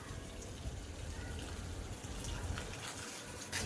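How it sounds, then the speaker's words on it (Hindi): Water poured onto garden plants at a village home on a cloudy evening, a steady outdoor splashing and gushing flow that runs continuously without talk. "पौधों में पानी दिया जा रहा है"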